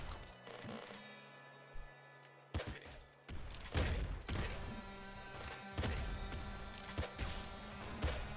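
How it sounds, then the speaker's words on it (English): Loud, chaotic bursts of explosions in the Nuclear Throne video game, with repeated blasts and crashes clustered through the second half over a steady background of game music and effects. "Oh, the explosions, baby."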